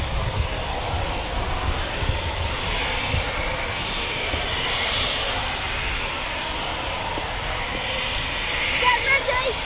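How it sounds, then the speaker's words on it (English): A Eurofighter Typhoon FGR4 jet takes off at night at RAF Coningsby, a loud, steady roar of jet engine noise that holds for the whole stretch and swells slightly toward the end. "Clear for takeoff, Typhoon 84."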